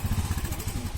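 A two-wheeler engine that needs repair runs nearby with a steady, rapid low throb and faint clatter throughout.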